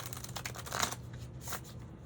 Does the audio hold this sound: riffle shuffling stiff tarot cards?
yes